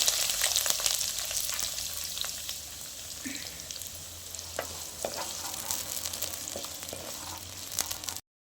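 Sliced onions fry in a pan with curry leaves, coriander, ginger-garlic and salt for soya kaleja curry, a soft continuous sizzle with occasional clinks and stirring scrapes, close and quiet, no one speaking.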